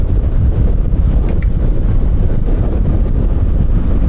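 Strong wind buffets the microphone of a camera on a Fortress 160 scooter in a loud, continuous low rumble, steady for the whole stretch with no voices.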